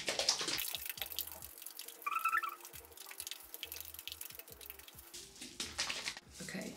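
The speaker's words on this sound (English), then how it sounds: "I just need to shake it now for like about a minute" A bottle of hair colour mixed with conditioner is shaken by hand, making a faint, rhythmic series of liquid sloshes and soft knocks. No one speaks.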